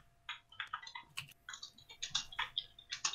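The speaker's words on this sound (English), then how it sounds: "I was typing in my notebook." Quick, uneven keystrokes tap on a notebook computer keyboard, forming a continuous run of light clicks at close range, with no voices.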